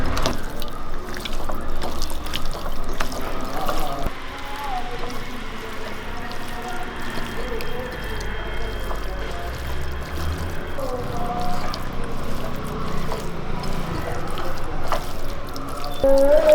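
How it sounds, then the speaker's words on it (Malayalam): Water poured and mixed into a fish masala of chilli powder, garam masala and salt makes a close, continuous trickling and sloshing, with occasional handling clicks. "വെള്ളം മിക്സ് ചെയ്യാം"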